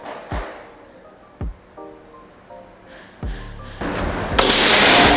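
Shots from an SR unit air rifle, several sharp cracks spaced a second or two apart, with a louder burst of noisy bangs and clatter toward the end.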